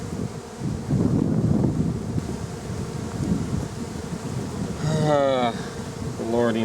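Bees buzz steadily around an open beehive as a close, continuous drone under wind noise, with a person's voice breaking in near the end.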